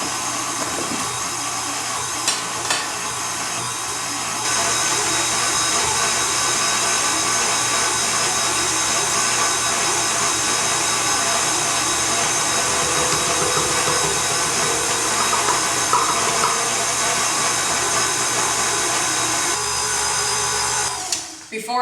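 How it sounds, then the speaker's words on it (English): An electric stand mixer whirs steadily while beating frosting for a brandy-spiked chocolate eggnog cake, starting up after a few seconds and running loud and constant before cutting off at the end. "So we're going to start our mixer."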